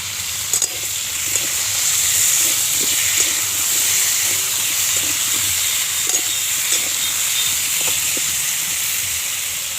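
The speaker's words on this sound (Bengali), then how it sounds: "এখানে হচ্ছে মাংসের আলুটা ভাজা হচ্ছে" Potatoes for a meat curry fry in a pan, giving a steady, close broadband sizzle and hiss that runs unbroken for the whole stretch, with faint clinks now and then.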